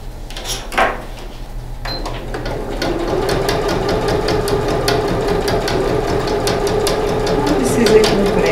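A sewing machine stitches a seam along bias binding on a medicine-pouch project, a steady fast motor whir building after a few clicks of handling at the start.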